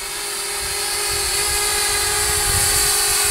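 Rotor buzz of a JJRC H47 folding-arm toy drone in flight, a steady high-pitched whine with a constant tone that holds loud and close throughout, no voices.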